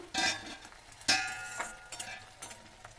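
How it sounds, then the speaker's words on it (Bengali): Onions frying in a covered pan for bhuna chicken, with intermittent louder bursts of sizzle and sharp clinks, probably from stirring or the lid, over a low frying crackle. "পেঁয়াজটা আরেকটু ভাজা হবে।"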